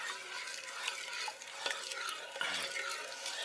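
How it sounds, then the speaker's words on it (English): A spoon stirs pulled chicken coated in hickory barbecue sauce in a pot, giving soft wet scraping and sticky squelches with a few light clinks against the metal, close and fairly quiet. "Alright, I'm going to stir this up really well."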